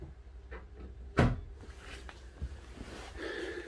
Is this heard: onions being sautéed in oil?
no